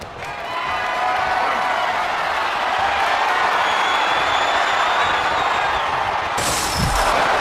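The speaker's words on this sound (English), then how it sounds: "The crowd is fully invested in the action" Arena crowd in the WWE 2K24 wrestling game, a steady roar of cheering held at an even level for several seconds, with a sharper burst of noise near the end.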